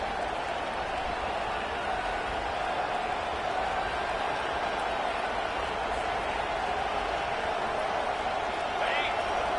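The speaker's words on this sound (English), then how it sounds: "Listen to this crowd just shaking the girders of this place trying to help their defense." Steady stadium crowd roar in the College Football 25 video game, a dense, continuous wash of cheering noise filling the whole stretch at a constant level, with commentary voices faintly mixed in.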